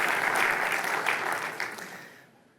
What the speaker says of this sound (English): I was hoping for applause there